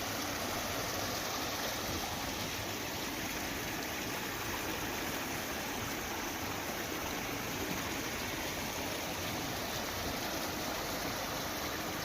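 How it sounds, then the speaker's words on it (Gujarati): Rainwater rushes through streams and channels in a rain-soaked village, a steady broadband wash of flowing water that stays constant throughout, with no voices. "નદી નાળામાં પાણી વહેતા થયા છે"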